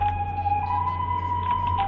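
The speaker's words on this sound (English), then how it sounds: "There's sirens outside" Emergency sirens sound outside, a steady, wavering wail that steps between two pitches, held continuously over a low constant hum.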